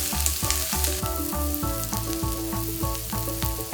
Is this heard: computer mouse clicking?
no